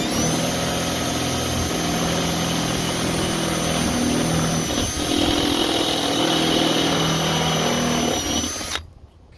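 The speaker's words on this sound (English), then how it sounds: "I'm going to come in with the step bit" A step drill bit bores out a pilot hole in a Weber kettle grill lid, a loud steady power-drill whine with a grinding buzz that runs continuously for about nine seconds, then cuts off abruptly.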